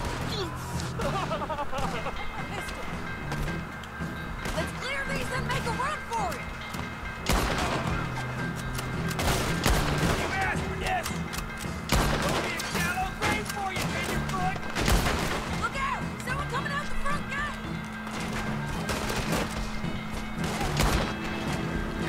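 Gunfire in Red Dead Redemption 2 during a prison break mission, with repeated sharp shots and crashes over continuous game ambience and music, with people talking throughout.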